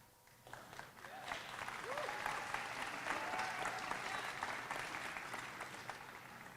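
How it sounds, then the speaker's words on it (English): An audience at a college adult education graduation ceremony breaks into steady, sustained clapping that swells and holds, heard from a distance in a large hall. "Thank you for clapping"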